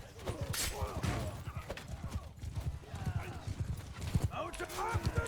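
Hooves of mounted archers' horses in Mount & Blade II: Bannerlord battle, steady clip-clop galloping with occasional whinnies, mixed with battle noise and someone talking over it throughout.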